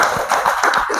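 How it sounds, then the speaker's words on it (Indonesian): Teachers at SMP Negeri 1 Kepenuhan Hulu clapping together in a room, a dense burst of hand claps filling a short moment, steady and fairly loud with no voices over it. "Oke Bapak Ibu, tepuk tangan Bapak Ibu."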